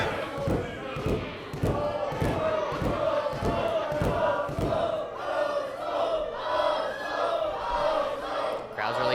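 A live wrestling crowd roars and cheers for Randy during a match, with rhythmic thuds and stomps early on giving way to a sustained, dense crowd noise.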